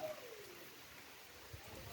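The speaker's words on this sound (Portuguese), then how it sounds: "Olha, chuva boa." Steady rain falls outdoors in the Brazilian sertão, watering garden plants, a soft continuous hiss with faint patter and no speech.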